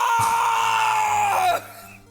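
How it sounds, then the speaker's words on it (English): A sustained, strained scream from the Phoenix Wright: Ace Attorney video game, a loud single high-pitched cry holding for about a second and a half before cutting off into a quieter tail. "It's that scream I heard in the elevator"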